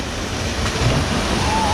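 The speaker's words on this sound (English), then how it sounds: "Swift moving water" Swift water rushing through a narrow slot canyon on the Kanarra Falls hike in Kanarraville, Utah, a steady broadband roar filling the whole clip, with a brief faint voice near the end.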